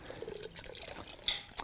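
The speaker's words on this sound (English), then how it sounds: "rinse the extra flavors and sugars and color from those grains with a small amount of hot water" Hot water trickles and splashes over steeped brewing grains in a strainer, a brief, faint patter of dribbling liquid with a couple of louder splashes near the end.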